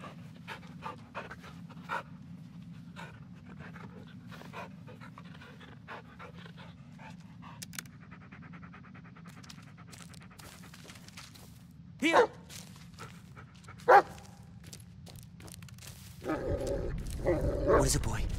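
A dog in the Blair Witch video game pants steadily in the foreground, with scattered clicks and footsteps, a couple of short louder bursts, and a rumbling swell near the end; someone speaks briefly.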